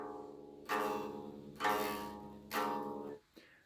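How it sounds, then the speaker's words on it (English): A tritone interval rung out three times on an unplugged electric guitar, each thin, quiet strum decaying before the next, with a faint pluck at the end. "A tritone is just two notes that are 6 semitones apart from each other. And we call this the devil's interval because it sounds like this."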